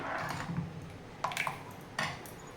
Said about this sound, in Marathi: आता हिला आपण डायरेक्ट गॅसवर ठेवूया